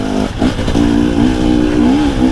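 A 2022 KTM 250 TPI two-stroke motorcycle pulls in sixth gear with a loud, close, steady engine drone that holds one note, dips briefly and climbs again.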